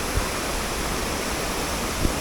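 Steady broadband rush of a waterfall at Maredumilli, flowing lightly rather than in full spate, continuous and fairly close, with a couple of brief low thumps.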